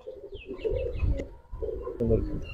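Giribaz tournament pigeons in a loft, birds flown in a 31 km tournament: two rolling, throaty coo phrases close by, separated by a short pause, with faint chirps above.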